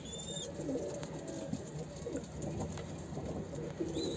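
A Mardin pigeon's cooing repeats softly through the clip over a steady background hum, with faint chirps at the start and end.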